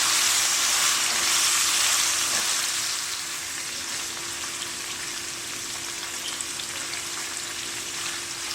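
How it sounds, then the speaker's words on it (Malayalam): Chicken pieces frying in the same pan that will be used for fried rice, a steady loud sizzle with stirring, slightly quieter after the first few seconds, no talking. "ഞാൻ ഫ്രൈഡ് റൈസ് കുക്ക് ചെയ്യാൻ പോകുന്ന സെയിം പാത്രത്തിൽ തന്നെയാണ് ചിക്കൻ വറുത്തെടുക്കുന്നത്"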